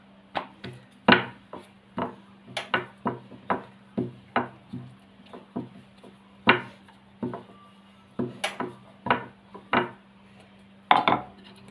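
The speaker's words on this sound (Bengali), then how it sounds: "এইভাবে বাকি রুটিগুলো বেলে নেব।" Roti dough being rolled out with a rolling pin: a steady series of sharp wooden knocks and clacks, about two per second, close and fairly loud against a low constant hum, with no talking.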